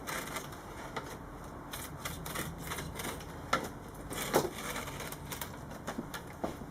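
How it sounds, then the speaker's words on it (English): A blade slicing through skateboard grip tape, a quiet run of dry scratchy rasps and crackles in an irregular rhythm, close and soft, with a couple of sharper snaps, no talking. "make sure when you're cutting, you want to use the blade at angles so you get a better cut"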